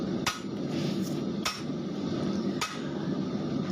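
A hand hammer strikes a ship engine valve head being forged into a knife, three loud sharp metallic blows spaced roughly a second apart over a steady background hum, with no talking.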